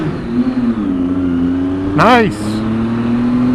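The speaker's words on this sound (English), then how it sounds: "Little rev bomb." A car engine on an Arizona highway gives a quick rising rev in an underpass, a sharp swooping burst over a steady cruising drone, with a voice speaking briefly.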